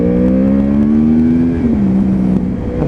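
A Yamaha R1 motorcycle pulling hard in first gear on a test ride, its engine droning loud and close with a steady rising pitch, a brief dip around midway, then carrying on strongly with no voices.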